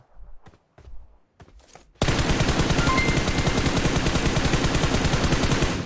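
Sustained rapid automatic gunfire aimed at a car in a battle royale game, a dense unbroken rattle of shots close and loud after a few scattered sounds.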